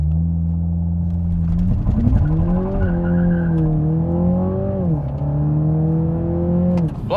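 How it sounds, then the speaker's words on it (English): A Toyota GR Supra 2.0 revs hard on launch control, then accelerates to 100 km/h with a rising, steady roar that climbs through gears, loud and close, with no talking. "so you can do the launch control with hitting the brakes and hitting the throttle"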